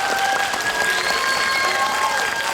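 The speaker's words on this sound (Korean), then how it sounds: "큰 박수 부탁드립니다." Audience applause and cheering at a Korean film stage event for the movie Juror 8 (배심원들) as the director and cast leave the stage, a dense steady wash of clapping with a crowd voice over the top.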